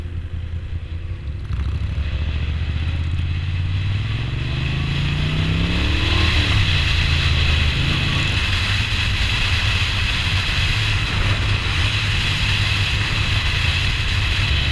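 A Moto Guzzi V9 shaft-drive motorcycle is ridden at a Mods and Rockers event, its engine a steady, loud rumble that rises in pitch as it accelerates through the gears, close and continuous with wind noise.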